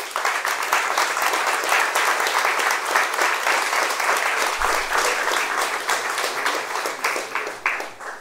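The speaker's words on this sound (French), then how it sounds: "et je vous demande de l'applaudir." Audience applause at a New Year wishes ceremony in Vauthiermont, a sustained, even wash of clapping from a roomful of people that fades toward the end.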